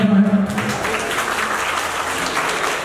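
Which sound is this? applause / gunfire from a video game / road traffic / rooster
applause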